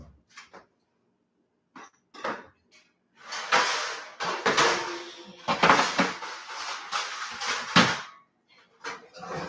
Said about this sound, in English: I'm going to take out all the pans that are in my oven.